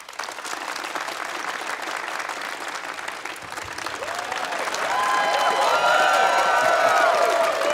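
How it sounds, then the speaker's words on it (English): At a live Harmontown comedy tour show in Los Angeles, a theater crowd claps steadily, then the applause grows louder as cheering, whoops and shouting voices join in. "So start clapping."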